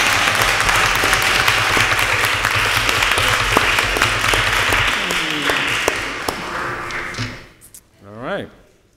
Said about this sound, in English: Y'all can stand and clap now